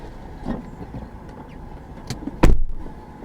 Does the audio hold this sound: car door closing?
yes